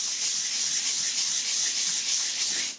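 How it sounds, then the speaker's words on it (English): A piston ring is gently rubbed to polish it, giving a continuous close, hissy scraping friction that holds steady for a few seconds before stopping. "All I need to do is just a gentle rub,"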